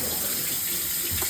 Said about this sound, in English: Then wash your hands.